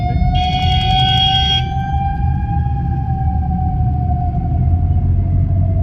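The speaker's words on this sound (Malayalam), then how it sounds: "ആംബുലൻസ് പോകുന്നുണ്ട്." An ambulance siren wails past a car in city traffic, its tone sliding slowly downward over a steady low engine and road rumble, with a brief extra siren burst near the start.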